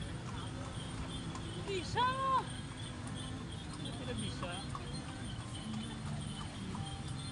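A horse pulling a delman carriage clip-clops steadily along the road under constant background noise, while children and adults talk over the hoofbeats.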